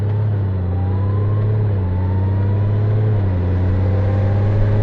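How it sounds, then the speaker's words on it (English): Big adventure motorcycle ridden off gently and shifting up through its gears, a loud, steady engine drone close up whose pitch climbs and drops back at each gear change. "I'm just going to ride off normally, and you watch it go through all 7 gears."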